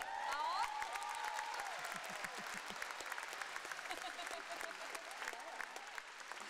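Audience applause for contestant Katarina Landberg at a festival contest in Halmstad, steady clapping from a crowd throughout, with a voice speaking at the start.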